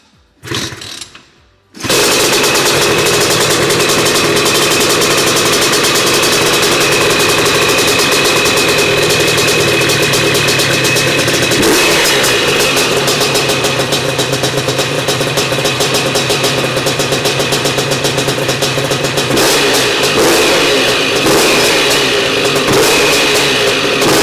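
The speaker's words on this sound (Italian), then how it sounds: "motore definitivamente chiuso e adesso andiamo a metterlo in moto. Sentiamo come suona." A Vespa smallframe scooter fitted with a Quattrini M200 engine starts after a brief fumble, then runs steadily and loudly up close for over twenty seconds with a rattly two-stroke idle and small throttle changes.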